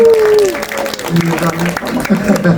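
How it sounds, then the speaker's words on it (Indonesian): Audience applauding for actress Christine Hakim at a Cannes film festival talk event in FX Sudirman, a broad steady wash of clapping over the whole stretch, with voices and a bit of speech mixed in. "Ibu boleh tepuk tangan untuk Ibu Christine Hakim"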